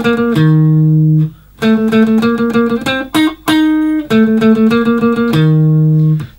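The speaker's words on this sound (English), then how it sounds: "a single note guitar riff to play that sounds like this" Single-note electric guitar riff from the intro of a song, a bright run of picked notes with held tones and brief gaps, played loud and close with no talking.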